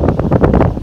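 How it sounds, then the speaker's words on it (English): Strong wind buffets the microphone in loud, continuous low rumbling gusts, with no voices heard. "It's really windy, so I don't know if you can hear this"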